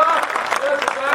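Audience clapping at a Hindi kavi sammelan poetry recital, steady scattered applause throughout, moderately close.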